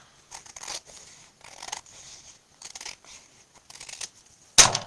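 Scissors cut a craft sticker sheet in short, crisp snips that come in separate bursts with quiet gaps between them, ending in one sharp, louder cut.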